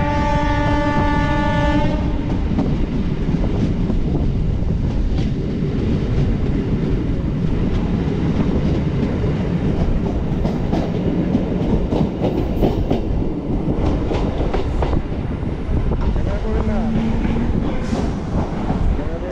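Sealdah to Gede local train in motion, loud continuous rumble and rattle of the carriages with a horn blast at the start and rhythmic wheel clatter throughout.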